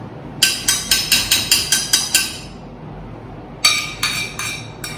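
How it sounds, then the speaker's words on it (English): A baking dish being handled gives a rapid run of about ten sharp, evenly spaced clinks, then a pause, then a few more clinks close by with no talking. "Now you take a baking dish."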